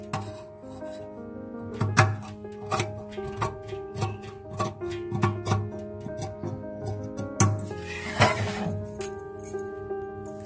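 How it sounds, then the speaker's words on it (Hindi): Scissors cutting fabric lining for a 3D face mask, a rounded shape being trimmed: repeated close snipping and rustling clicks over roughly ten seconds, with steady background music underneath. "अभी हमारा ये अस्तर कटिंग करके हुआ है"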